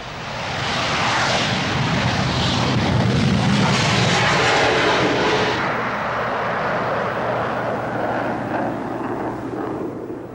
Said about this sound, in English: the colossal combined thrust of 2 R-31 engines fires the 37-ton fighter down the runway like a bullet from a gun